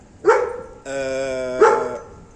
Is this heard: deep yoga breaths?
no